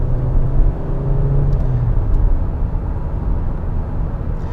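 A 2021 Hyundai Elantra Limited with a CVT accelerating as it merges onto a highway, heard from inside as a loud, steady low engine drone and road rumble that rises slightly, with no speech.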